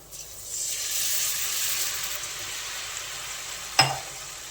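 Milk poured into a pan of roasted spices for a ginger and milk curry, giving a steady close sizzling hiss with a sharp splash and crackle near the end.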